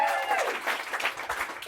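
Audience clapping at a stand-up comedy special, a dense burst of applause filling the room and holding steady throughout.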